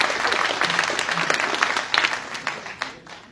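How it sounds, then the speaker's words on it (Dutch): Audience at a Rabobank customer evening in Leiden applauds the presenter with sustained, moderately loud clapping that fades slightly toward the end. "Een groot applaus voor de presentator van vanavond."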